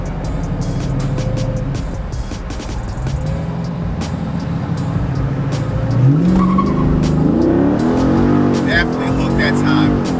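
A Dodge Charger Daytona 392 on drag radials launches hard, engine note climbing through rising revs and gear changes with a loud, close roar and some tire noise, under a talking voice.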